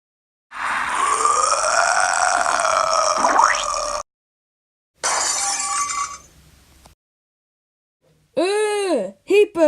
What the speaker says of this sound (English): He burped again.